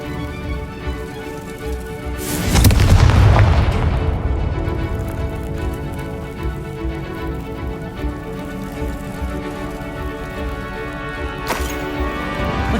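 A Confringo blasting spell bursts in Hogwarts Legacy, a loud rumbling explosion that swells and slowly decays under a dense game ambience, followed later by a sharper crack.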